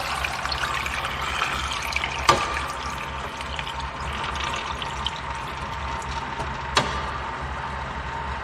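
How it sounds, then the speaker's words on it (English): Water pours steadily into a canning pot holding jars of peaches, a continuous close rushing and trickling wash with two brief sharp clinks along the way and no voices. "we're going to add as much water as we can"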